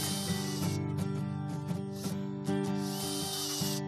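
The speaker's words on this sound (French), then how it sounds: "les 2 perceuses actionnées par ces 2 pédales me permettent de faire avancer la machine à vitesse lente" A homemade saffron-harvesting machine, moved slowly forward by two electric drills worked by two foot pedals, whirs and rattles up close in a steady mechanical drone with repeated clicking pulses throughout.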